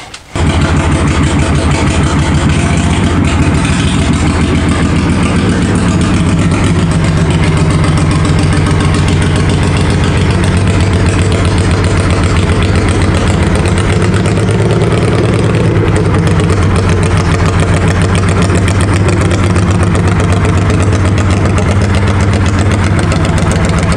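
A cammed-up, built engine on a John Deere yard mower runs loud and close with a lumpy, throbbing idle that holds steady throughout, with no voices.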